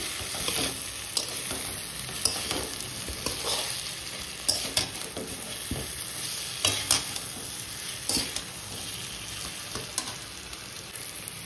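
Chandramukhi potatoes sizzling in a pan for a vegetarian biryani, with a steady bed of frying hiss and frequent scraping, clattering stirs from a spatula recurring throughout, close and moderately loud, no talking.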